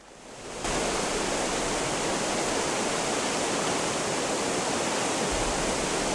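Steady, full-bodied rush of a waterfall in the Gothic Remake video game, rising in after a brief quiet start and holding loud and constant, with no speech over it.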